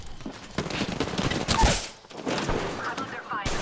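Gunfire in the Apex Legends video game, with uneven bursts of shots and impacts that swell and dip, briefly easing before resuming.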